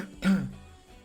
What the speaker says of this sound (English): I'm clearing my throat a lot because I drank a little bit of coffee earlier.